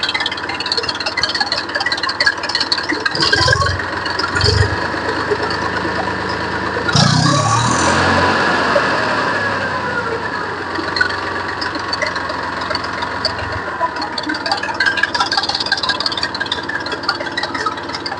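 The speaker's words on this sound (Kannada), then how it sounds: "ವೀಕ್ಷಕರ ಗಾಡಿ ಸೌಂಡ್ ಯಾವ ತರ ಬರುತ್ತೆ ಅಂತ ಕೇಳಿ" An Eicher tractor engine runs steadily at idle with a continuous rattling diesel knock, close and loud, rising briefly in revs partway through before settling back.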